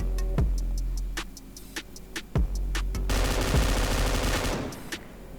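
An M249 light machine gun fires in PUBG Mobile, sharp bursts and single cracks scattered at first, then a dense sustained stretch of rapid gunfire mid-clip, fairly close and loud without speech.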